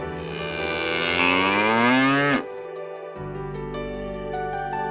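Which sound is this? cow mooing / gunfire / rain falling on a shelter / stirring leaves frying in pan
cow mooing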